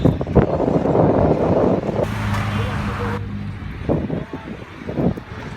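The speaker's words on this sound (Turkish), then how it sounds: "Rüzgarlı bayağı ha." Wind buffets the microphone with a low rumbling roar that stays constant throughout, with faint muffled voices underneath.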